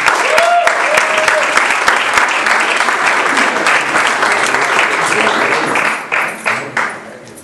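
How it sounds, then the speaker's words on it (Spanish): Loud, sustained applause from a large crowd, dense clapping throughout that thins into a few scattered claps at the end. "vamos a darle un aplauso"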